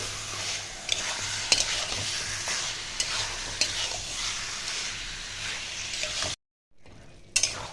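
Chicken masala stir-fried over a medium flame makes a continuous close sizzle, with repeated scraping stirs and light clicks. It cuts out briefly near the end, then resumes.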